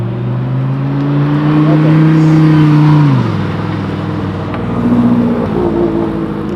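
A loud race car engine drones, then drops in pitch as it shifts, followed by more revving, close and continuous.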